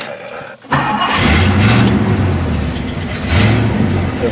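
A 1964 Ford Thunderbird running nearly out of gas cranks briefly, then its engine catches and roars loudly to life, settling into a rough idle with a second rev rising near the end.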